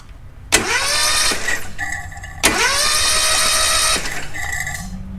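A Kawasaki FR730V small engine, freshly re-honed and re-ringed, cranks over by starter in two loud, close bursts of steady whirring, each lasting about one to one and a half seconds, without catching.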